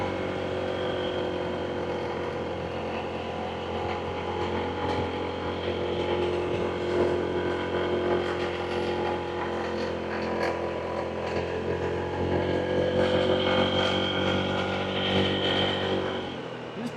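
Honda ADV160 scooter ridden along a dirt road, its engine a steady, fairly loud drone with wind noise throughout, no talking.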